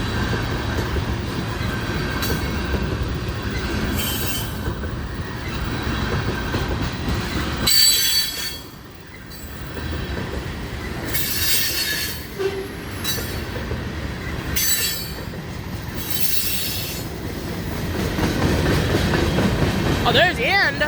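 A train rolls through near a county farm road outside Murfreesboro, Tennessee, with steady rumbling, wheel clatter and squeal over about twenty seconds, loud and close, briefly dipping before rising again.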